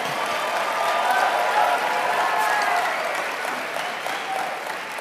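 A network marketing seminar audience claps in sustained applause, a dense, steady wash of hands lasting throughout, with a few voices faintly mixed in.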